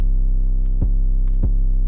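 An 808 bass sustains as a loud, deep, saturated tone through Ableton's hard curve saturation at 0 dB drive, retriggered twice with a short pitch-dropping attack click, alone without talk.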